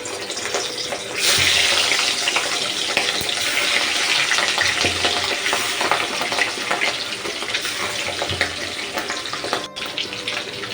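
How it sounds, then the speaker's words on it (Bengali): Pieces of katla fish frying in hot mustard oil in a wok give a loud, steady hiss and crackle that runs without pause, with no voices. "কড়াইয়ের তেল বেশ গরম হয়ে গেছে এখন আমি একটা একটা করে মাছ দিয়ে দেবো"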